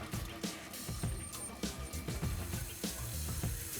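A toilet tank refills through a newly installed fill valve, water gushing and splashing steadily into the cistern with uneven sloshing surges, close by and with no talking over it.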